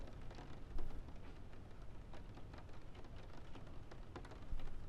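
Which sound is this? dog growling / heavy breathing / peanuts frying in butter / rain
rain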